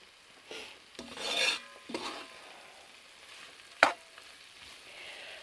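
A flour-and-fat roux cooks in a pan for turkey-tail gravy, with quiet scraping stirs and a soft sizzle, plus a sharp utensil clink near the end; no talking.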